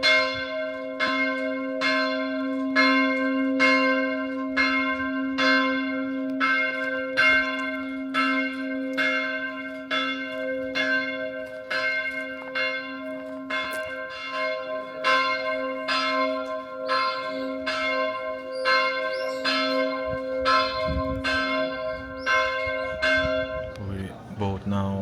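Church bells in Orebić, Croatia, ringing in a steady repeated toll over a sustained hum, moderately distant outdoors, with faint ambient voices and movement near the end.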